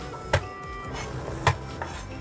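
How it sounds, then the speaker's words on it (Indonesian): Three washed garlic cloves are smashed flat on a board, with two distinct sharp thuds about a second apart, close and fairly quiet. "tambahkan 3 siung bawang putih, jangan lupa dicuci bersih, dan ini saya geprek."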